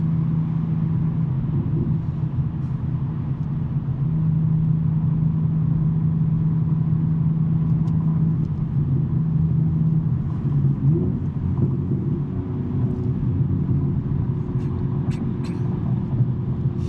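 A BMW M3 with a six-speed manual gearbox cruises on a Sunday morning drive toward downtown Los Angeles, its engine and exhaust giving a steady low drone from inside the cabin, holding one even pitch that shifts slightly around the middle.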